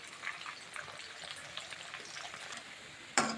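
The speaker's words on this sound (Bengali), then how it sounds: "আমি আরেকটু আলুগুলো একটু ভালো করে ভেজে নিচ্ছি, আর একটু লালচে করে ভেজে নিচ্ছি।" Potatoes frying in oil in a pan, browning to a reddish crisp, give a steady crackling sizzle that runs throughout, with a sharper burst of spattering near the end.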